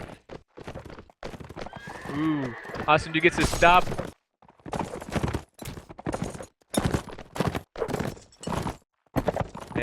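Horses gallop and whinny during a mounted medieval game battle, with rhythmic hoof clip-clops, a drawn-out neigh and scattered clashes under an excited commentator talking over the action.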